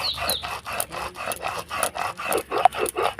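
Soaked chana dal is ground finely on a grinding stone with rhythmic back-and-forth scraping strokes, about a dozen close, even rasps in quick succession, alone without speech.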